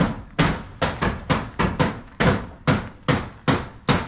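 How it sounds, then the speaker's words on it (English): Steady hammering from construction work, about a dozen loud, evenly spaced blows each ringing briefly, close by with no talk over it. "there's a lot of knocking today"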